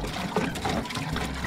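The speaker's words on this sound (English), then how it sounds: "We're filling up the tank with water." Water gushing into a truck's tank from a hose or spout, a steady, close rushing pour filling the whole short moment without a break.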